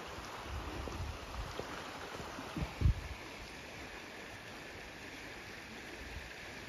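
Fast-flowing countryside stream in Cornwall, a continuous soft rushing of water with a couple of brief louder splashes or knocks partway through, heard from nearby and quietly, no speech.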